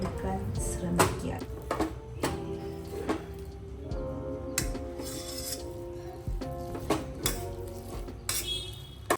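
Soft Kimia dates being mashed in a bowl, repeated clinking and scraping of a utensil against the bowl at an uneven rhythm, close and fairly quiet, under someone speaking.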